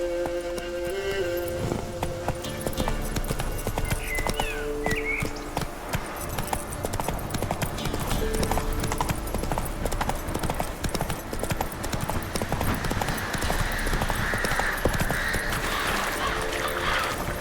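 Roach the horse galloping in The Witcher 3, a fast, steady rhythm of hoofbeats running continuously for a long stretch, with game music and ambience underneath.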